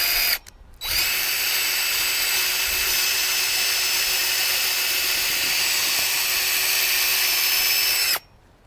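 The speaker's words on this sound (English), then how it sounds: "So now I'll drill a pilot hole at the center point." A power drill bores a pilot hole at a marked center point for a garden tool storage mailbox, running as one steady, loud, continuous whine for about seven seconds after a brief start, then stopping abruptly.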